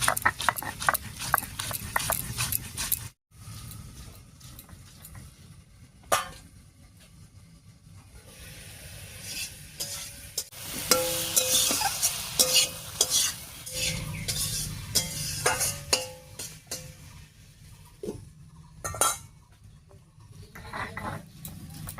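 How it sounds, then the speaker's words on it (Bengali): Dried chillies, garlic cloves, whole cumin and chopped onion ground together into a spice paste, producing steady close scraping and rubbing strokes in a repeated rhythm over a long stretch. "এই সব কিছু একসঙ্গে করে বেটে নেব।"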